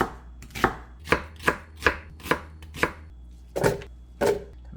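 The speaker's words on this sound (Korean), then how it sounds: "양파 중간 정도 되는 거 하나입니다. 이거 뭐 가를 겁니다." A knife slicing through a medium onion on a cutting board, about nine crisp, evenly spaced chops close up, with two heavier cuts after a short pause.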